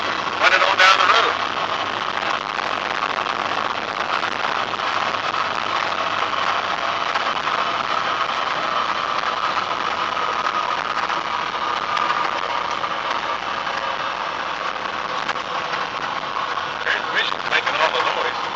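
Mack truck converted to full electric drive while driving, with a steady transmission whine and hum inside the cab, continuous and moderately loud with little variation.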